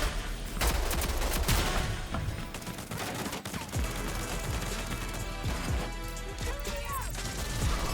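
Rapid gunfire bursts and sharp impacts from the Rogue Company shooter game, loud and dense throughout, with crashes and clatter over a busy battle mix.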